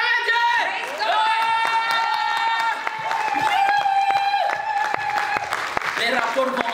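A church congregation claps and cheers in praise of God, the loud crowd noise running throughout with sharp claps and voices shouting over it.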